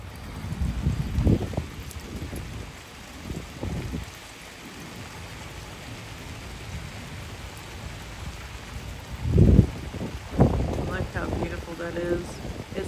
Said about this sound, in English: Sounds like it's actually raining pretty good right now.